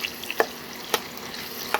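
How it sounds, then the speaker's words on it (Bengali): Chicken fries in a pan in a home kitchen, with a soft steady sizzle broken by a few sharp scraping clicks as it is stirred, close and without speech. "এখন আমি একটু চিকেন বসিয়েছি,"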